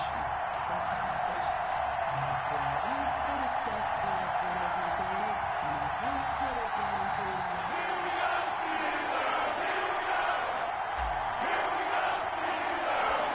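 A stadium crowd in an EA Sports football video game, Miami Dolphins versus Pittsburgh Steelers, roars as a steady, dense wall of noise for the whole stretch, with a low voice murmuring underneath.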